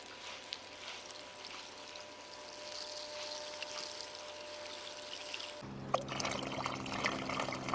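Muddy lake water is poured into a PuriBag filter bag, first a soft steady trickle, then a louder rushing pour near the end, with no talk.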